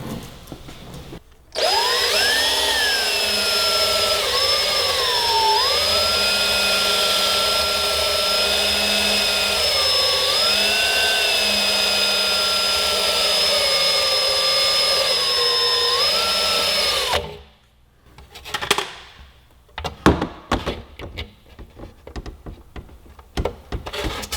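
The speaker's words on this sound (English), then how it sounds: "I'm gonna get a drill. I'm gonna open that up just a little bit." A power drill enlarging a hole in a carbon fiber front fender for a 2018 Suzuki GSX-R1000 whines steadily for about fifteen seconds, its pitch dipping a few times under load, then stops, followed by clattering handling noises.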